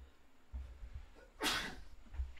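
A single sharp sneeze bursts out near the microphone after a short quiet intake of breath, with faint rustling around it.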